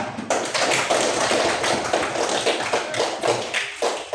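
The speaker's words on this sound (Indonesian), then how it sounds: "beri tepuk tangan untuk kelompok 3" Classroom applause for the third student group, a dense burst of many hands clapping close by that keeps going for several seconds with an uneven, busy rhythm.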